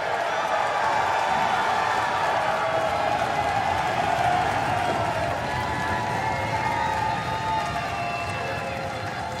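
Wrestling arena crowd at a Warrior Wrestling event roaring steadily as two big men square off, a thick continuous cheer with scattered claps and shouts, loud and even across the whole stretch.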